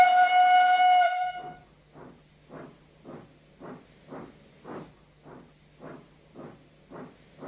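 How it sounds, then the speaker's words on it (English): A steam locomotive whistle blows one long, clear, loud blast, then gives way to a steady rhythmic chuffing that repeats evenly as the engine pulls away. "Oh, that must be my whistle."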